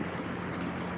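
A steady mechanical hum with a low drone and a watery rushing layer runs unbroken throughout from a small water pump working close by.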